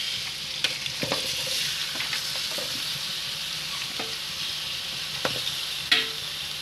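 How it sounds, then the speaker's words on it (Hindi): Goat mutton fries in a cup of hot oil in a karahi, giving a steady, close sizzle broken by occasional clinks and scrapes of stirring, with no voices. "मैंने तो एक कढ़ाई ले ली, जिसमें 1 कप मैंने तेल डाल दिया है। इसमें मैं ऐड कर दूंगी अपना मटन, बकरे का गोश्त"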